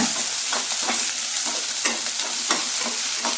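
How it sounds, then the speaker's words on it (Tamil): Sliced onions stirred and sautéing in a hot pan while cooking a mutton liver pepper dish, with steady sizzling and a regular scraping rhythm of the spoon, close and loud. "அந்த 2 வெங்காயத்தை போட்டு நல்லா கிளறி விட்டுக்கோங்க."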